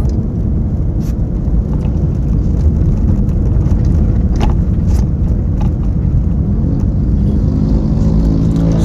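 A motorcycle engine runs loudly and close by, a steady, rumbling drone that holds throughout with no pauses.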